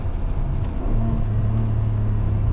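A 2003 Ferrari 575M's engine rumbles low and close, swelling briefly before settling into a steady, droning hum, with no talking.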